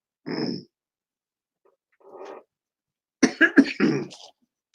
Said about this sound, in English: don't start coughing